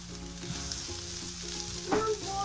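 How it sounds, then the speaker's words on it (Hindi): Chicken pieces dropped into softened onions in a pan, a steady frying hiss with a sharper burst of clatter and sizzle near the end, close and brief, with no speech. "ये देखिए चिकन ऐड कर दिया"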